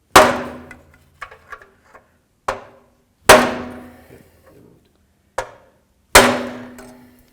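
Sharp hammer blows striking a 2007-or-later Toyota Tundra 4WD starter to break it free from the transmission, loud metallic clangs in irregular bursts with ringing decay, a few lighter taps between, no talk.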